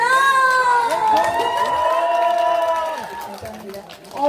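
An audience at a Korean literary festival shouts and cheers loudly, voices rising in a sustained roar that fades toward the end.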